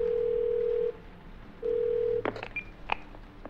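Phone dialing in the video game Twelve Minutes: a steady dial tone drops out, returns briefly, then gives way to a few quick beeping keypad tones, all fairly quiet with no talk.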